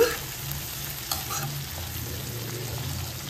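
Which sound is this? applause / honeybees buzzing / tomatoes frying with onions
tomatoes frying with onions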